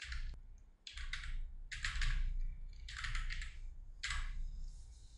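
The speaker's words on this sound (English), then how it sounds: "So hit F2 on the keyboard." Quiet computer keyboard clicks come in five short bursts of several rapid keystrokes each, close and alone over a low room hum.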